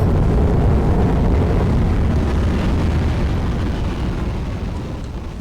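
A loud, steady rumbling roar of explosions and heavy fire in Aliens vs. Predator 2, broad and continuous throughout, slowly fading slightly toward the end, with no talking.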